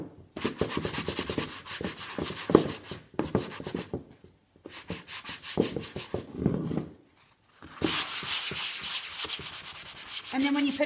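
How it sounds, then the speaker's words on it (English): Sanding block rubbed by hand over painted thrift store furniture, a close, raspy scraping in quick back-and-forth strokes, in bursts separated by short pauses. "I'm going to sanding block that off so that you can see just a fine grit"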